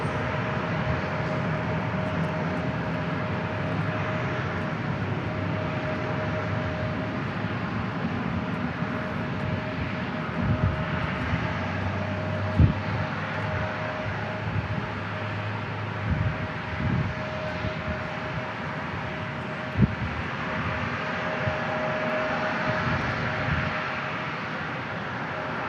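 Southwest Airlines jet arriving at San Diego International from San Jose del Cabo, a steady moderate engine rumble with a faint whine and a few brief knocks.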